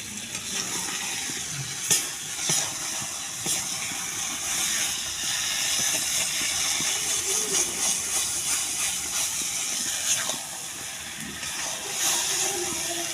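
Chicken cooking on a traditional clay stove gives a steady close hiss and sizzle with faint stirring clicks, continuous and fairly loud throughout, with no voices.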